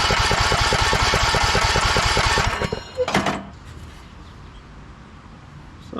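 A 2014 Craftsman T1600 lawn tractor engine cranks over steadily in rapid, even pulses during a compression test, loud and close, then stops abruptly and leaves a quieter background.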